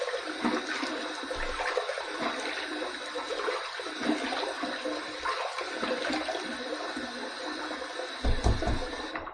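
Running water from a tap rinsing during a wet shave, a steady close rushing flow with occasional splashes and no talking.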